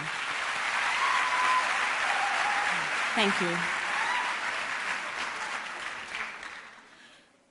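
An audience at a university public lecture gives a round of applause, broad steady clapping that swells and then fades toward the end, with a brief spoken thanks over it.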